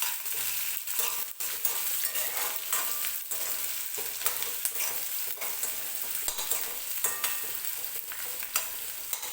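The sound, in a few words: curry leaves and green chillies frying in oil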